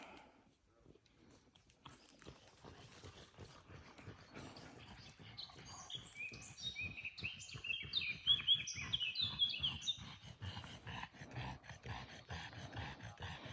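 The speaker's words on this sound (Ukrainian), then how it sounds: "Але як співають птахи?" Songbirds chirp and trill in a summer forest in Zakarpattia, the calls growing denser and louder partway through over steady footsteps and rustling, with no voices.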